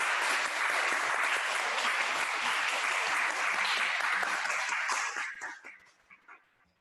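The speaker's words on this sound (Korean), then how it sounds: "우리 옆에 있는 분들에게 뜨거운 박수로 환영의 박수를 올려주세요." A church congregation claps in sustained, dense welcoming applause during a Sunday service for several seconds, then it thins out and fades to scattered claps and silence.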